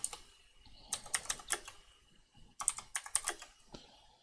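Quick clusters of computer keyboard clicks tap out in short bursts with pauses between, close and crisp, no talking.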